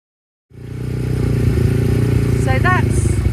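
A small 350cc racing motorcycle at the Pre-TT Classic road races in Castletown, Isle of Man, fires up suddenly and settles into a loud, steady, throbbing idle, with a brief voice cutting in near the end.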